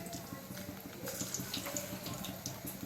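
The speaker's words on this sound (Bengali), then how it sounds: "এবার এর মধ্যে পকোড়াগুলো আমি ছেড়ে দিচ্ছি" Pakora batter dropped into hot deep-frying oil for Bengali vegetable pakoras, giving a steady, dense sizzle and fine crackle that runs continuously and fairly quietly throughout, with no talking.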